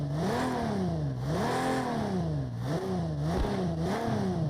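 A flat-12 Ferrari engine in the video game Project Cars 2 revs up and down repeatedly with a rough, chugging tone, loud and steady throughout, without any distinct backfire pop standing out.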